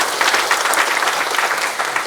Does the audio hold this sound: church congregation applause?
yes